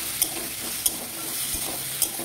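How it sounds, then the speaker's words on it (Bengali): Potato pieces with salt and turmeric powder fry in a pan while being stirred, giving a steady sizzle with a few sharp scraping ticks of the spatula, close and fairly loud. "দিয়ে আলুটাকে ভালো করে নেড়ে ভাজা ভাজা করতে হবে"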